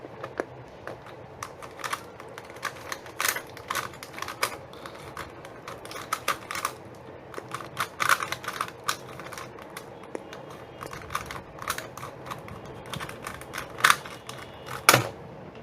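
A MoYu Weilong Square-1 puzzle cube is turned through a speed solve, giving a steady run of quick, light plastic clicks and clacks in uneven bursts, close and fairly quiet, with no talking.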